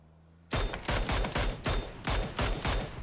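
Loud bursts of automatic gunfire in PUBG, about seven rapid volleys of close, punchy shots in quick rhythmic succession right after a quiet start, with no talking over them.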